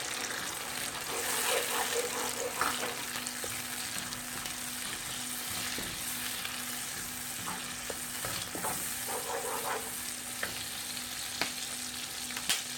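Chicken angara masala with red chilli, Kashmiri chilli, turmeric and garam masala sizzles in a pan as a soft, steady frying hiss with occasional light stirring scrapes, fairly quiet and close, with no speech.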